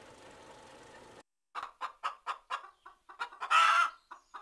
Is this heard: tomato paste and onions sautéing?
no